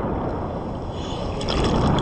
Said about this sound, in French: Il y a des grosses vagues qui arrivent.